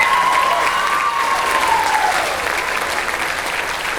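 A band concert audience at a high school spring concert applauds a saxophone quartet, a loud, full round of clapping with a faint voice or tone drifting above it.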